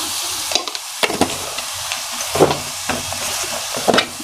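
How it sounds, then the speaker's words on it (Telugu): Chopped onions with green chillies and a half spoon of turmeric fry and roast in a pan, a steady sizzle broken by several sharp scrapes and knocks of stirring, close and clear with no talking. "ఇది బాగా వేగాలి రోస్ట్ అవ్వాలి ఆనియన్"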